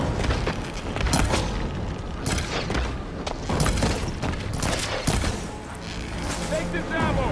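Gunfire rattles through a battle in Horizon Forbidden West, with dense booms, bursts and mechanical clatter layered close together and shouting voices over the din.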